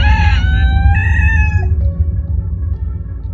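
A rooster crows loudly and close, one long drawn-out cock-a-doodle-doo call that trails off, heard alone over steady low background rumble.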